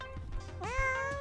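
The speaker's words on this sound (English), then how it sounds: "Kitty is in here" A cat meows close to the microphone. One clear, drawn-out rising meow follows some low background murmur.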